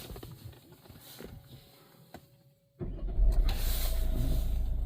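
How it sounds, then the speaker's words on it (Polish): A Peugeot 3008 GT with a 2.0 BlueHDi 180 diesel and automatic gearbox starts after a near-silent pause: a sudden cranking burst, then a steady, loud, low idle rumble close by. "i uruchomimy pojazd"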